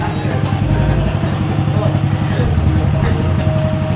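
Honda Vario scooter engine running after starting, a close, steady idle rumble with rapid low pulsing, while someone talks over it.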